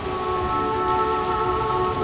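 Steady rain in The Witcher video game, a continuous hiss of falling drops with a faint sustained musical tone beneath, even and unbroken.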